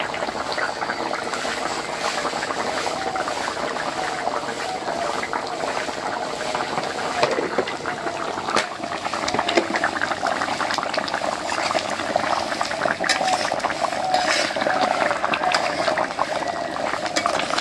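Fish curry with river fish simmers and bubbles steadily in a pot, a continuous close boiling hiss with small pops throughout, no voices.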